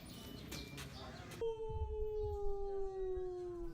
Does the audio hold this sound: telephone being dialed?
no